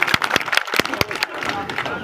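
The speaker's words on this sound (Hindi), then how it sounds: "जोरदार तालियों से स्वागत भाई" A crowd at a farmers' tractor rally in Hisar claps in a burst of sharp, uneven applause, with crowd babble mixed in across the short stretch.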